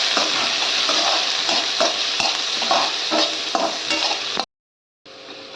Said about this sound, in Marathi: तर चांगला कांदा परतून घ्यायचा